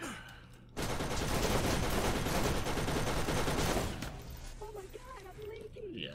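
A gun in Borderlands fires a sustained rapid burst, a dense rattling volley lasting about three seconds that then stops abruptly, followed by quieter game sounds and a voice talking.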